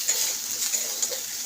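Spices for a koi fish curry are stirred and fried in a pan, giving a steady soft sizzle with a few light scraping taps from the stirring; no one speaks.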